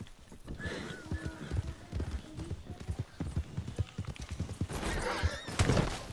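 Horse hooves clip-clop with a brief whinny in Red Dead Redemption 2, a steady run of hoofbeats with a louder burst near the end, while people talk over the game audio.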